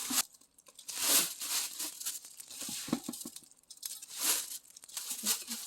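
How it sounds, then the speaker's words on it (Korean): A plastic kimchi bag lining a container rustles and crinkles up close as fresh shrimp are packed in, coming in irregular bursts of crackling with short quieter gaps. "비닐 여기다 깔고 여기다가 담아주겠습니다."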